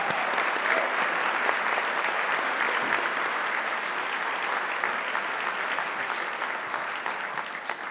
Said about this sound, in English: Please join me in a round of applause in celebration of these outstanding